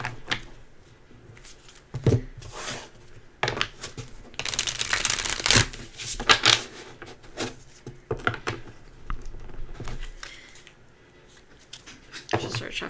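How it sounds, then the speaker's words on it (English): Papery riffling and soft slaps of slightly bent tarot cards being shuffled by hand in reverse, in repeated bursts, with a louder flurry midway and quieter handling around it. "Shuffling my cards in the reverse because they're starting to get all, funky bent"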